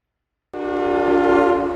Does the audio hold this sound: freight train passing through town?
yes